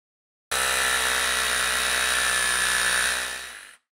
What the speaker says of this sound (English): We're gonna drill on the insides of that